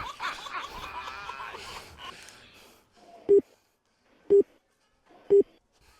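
A mobile phone call is placed, with three short identical beeps spaced about a second apart after a stretch of faint background chatter.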